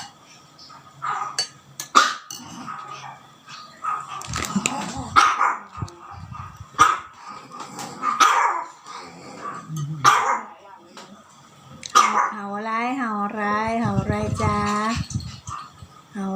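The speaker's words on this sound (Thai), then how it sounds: "มีน้องหมามาเห่าบ้งบ้งบ้งอยู่ตรงนี้" A dog barks in repeated bursts at a home, some sharp single barks and a run of yelping, whining calls near the end, with people talking in between.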